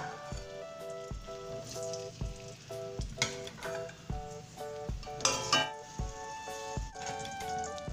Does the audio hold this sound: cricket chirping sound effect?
no